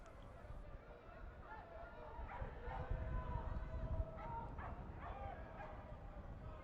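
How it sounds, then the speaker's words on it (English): Dogs barking in the crowd at a professional soccer match between Rio Grande Valley FC and Sacramento Republic FC, faint distant yips and barks mixed into stadium ambience beneath ongoing commentary. "You can hear some of the dogs barking here."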